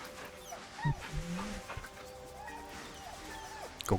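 A dog whimpers and gives short yips within the fantasy role-playing game Baldur's Gate 3, faint and brief against a quiet backdrop with soft game tones.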